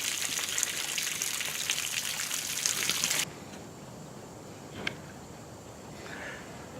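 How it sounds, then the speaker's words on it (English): Heavy, steady rainstorm with rainwater gushing and running, a dense hiss that cuts off sharply partway through, leaving a faint wet background with a few soft drips. "Okay, this is going to be a rainstorm, one of those steady rains that's going to go on for a long time."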